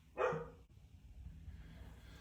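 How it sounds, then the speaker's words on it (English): A dog indoors gives one sharp bark in the background, fairly distant and quiet, followed by low room noise. "that's the dog in the background."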